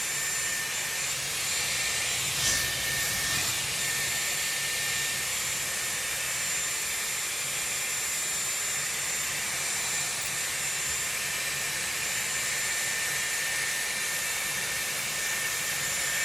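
A Dyson Airwrap with a 20 mm barrel blows steadily while drying hair, a constant close whooshing hiss with a faint high whine throughout.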